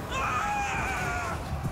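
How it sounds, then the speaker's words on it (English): A shrill, wavering screech rises from a unit being ripped apart by a Soros in a Total War: Warhammer II Lizardmen versus Empire multiplayer battle, loud and sustained over a low rumble of combat. "That was quite the screech,"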